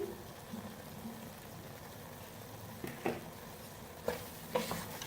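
Vermicelli with coconut and raisins is mixed in a pan, a faint steady sizzle with soft scraping and a few light clinks of the spoon toward the end.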